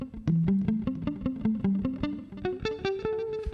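Electric guitar played with palm muting: a rapid run of short, chugging picked notes that climb steadily in pitch, loud and close, with no talking.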